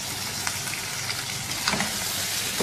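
Meat with yogurt and garlic-ginger paste fries in a karahi for Peshawari namkeen karahi gosht, giving a loud, steady, dense sizzle with faint stirring scrapes throughout.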